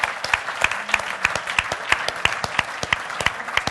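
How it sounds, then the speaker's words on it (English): Audience applause at a live storytelling and hypnosis workshop, a steady patter of many hands clapping close by, with no one speaking over it. "So give yourselves a round of applause"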